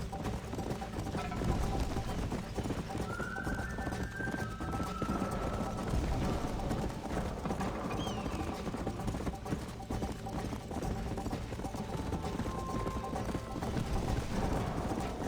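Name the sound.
horse hooves clip-clopping in video game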